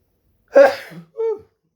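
A single close, sharp sneeze followed by a short breathy vocal sound.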